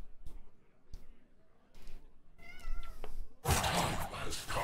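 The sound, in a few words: cat meowing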